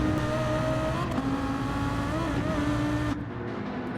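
McLaren race car in Gran Turismo, its engine holding a loud, steady high-pitched drone at speed along a straight, with a slight pitch shift near the end.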